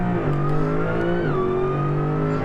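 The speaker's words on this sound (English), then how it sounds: "Listen to the supercharger." A supercharged dragster engine in the Automation video game revs steadily with a smooth whine, its pitch climbing partway through and then holding, close and alone with no talking.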